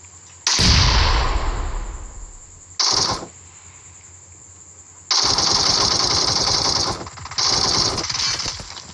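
Bursts of automatic gunfire in a BGMI team deathmatch battle, loud and dense, with sustained rapid volleys separated by short pauses and a brief solitary burst in between.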